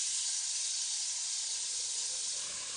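Finely minced onions hit a pan of golden-browned pork meatballs, setting off a loud, steady, close hiss of frying that holds evenly without talk.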